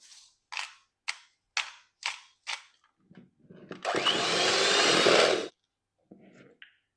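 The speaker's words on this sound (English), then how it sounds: "we're going to whisk it to firm peaks" Egg whites being whisked toward firm peaks for a soufflé, heard as a series of short, evenly spaced scraping strokes, then a louder sustained burst of rapid whisking, followed by a few faint taps; close and with no talk.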